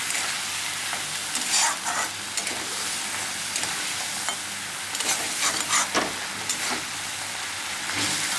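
Rohu fish pieces being stirred through masala in a frying pan, Odia-style tamarind fish fry; a continuous close sizzle broken by repeated scraping stirs, spaced irregularly, with no voices.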